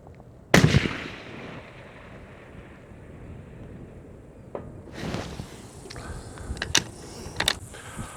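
A single loud, sharp hunting-rifle shot cracks at an outdoor shooting range, followed by a rolling echo that fades over several seconds, with faint wind and small clicks and handling noises afterward.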